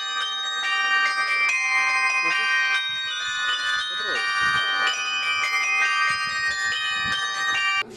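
A carillon rings out as its bells are played, producing layered sustained metallic tones with overlapping strikes at a steady moderate loudness throughout, and no talk over them.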